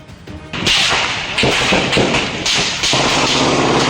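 Loud sharp bangs go off in quick succession at a municipal hall in Sharif Aguak, Maguindanao del Sur, each one ringing out over a harsh, noisy background. It sounds like a string of gunshots nearby.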